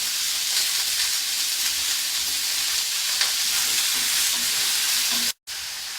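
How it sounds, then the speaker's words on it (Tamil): Tomatoes sauté in a pan for tomato chutney, a steady close sizzle and hiss with light stirring, briefly cutting out near the end. "தக்காளி பழம் லேசாக வதங்கினா போதுங்க."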